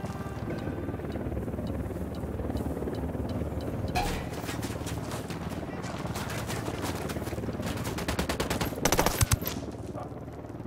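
Sustained automatic gunfire in the video game Ghost Recon Wildlands, dense bursts over a steady rumble of engine noise, with a louder cluster of shots near the end and some background game chatter.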